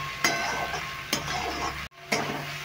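A spoon stirs chicken pasta frying in a pan, sizzling steadily with three scraping, clinking strokes spaced about a second apart, close and clear.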